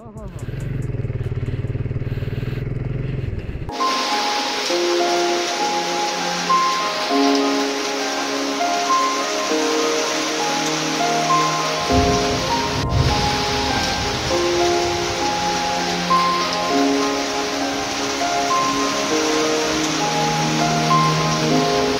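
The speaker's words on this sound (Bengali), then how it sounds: "বৃষ্টি হইতেছে তো।" Steady rain falling outdoors during a motorcycle trip, a dense even hiss that starts abruptly after a few seconds and continues unbroken to the end.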